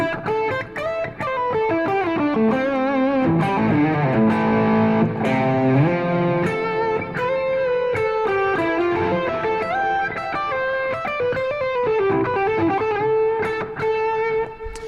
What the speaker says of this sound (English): So I've got a bit of reverb on at all times, and then I can add a bit of delay.